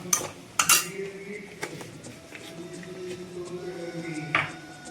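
Utensil clinks and scrapes against a pot as asafoetida powder is stirred into sambar for an Onam sadhya, a few sharp metallic taps early on over a steady low kitchen hum.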